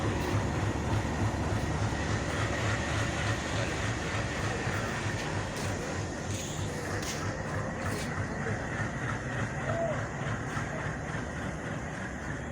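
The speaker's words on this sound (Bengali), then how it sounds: "পঁয়ষট্টি উনত্রিশ লোকো নিয়ে চলে গেল ডাব্লিউডিএম থ্রিটি" A WDM3 diesel locomotive hauls an express train through the station, a loud continuous rumble with rhythmic wheel clatter and brief higher squeals partway through.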